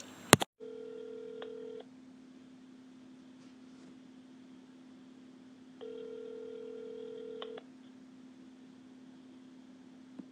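A phone line rings in long electronic tones, two extended ring bursts separated by a steady humming line tone, quiet and alone.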